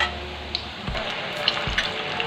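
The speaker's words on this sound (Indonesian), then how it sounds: "sekarang aku mau goreng sampai warnanya kuning keemasan" Mini pisang molen, dough-wrapped banana rolls, fry in hot oil with a steady crackling sizzle and a few soft clinks from stirring or turning.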